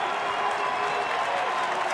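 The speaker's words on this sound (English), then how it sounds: "And the crowd getting into it," A big Detroit ballpark crowd of about 36,000 applauds and cheers at a Rangers–Tigers game in April 2012, a dense, continuous roar of clapping and voices at a steady, fairly loud level.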